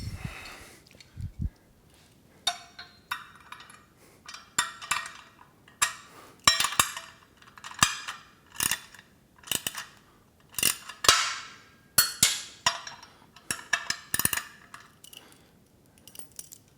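Metal tools get rummaged through in a tool bucket, with repeated sharp clanks, clinks and rattles in irregular bursts, close by and alone.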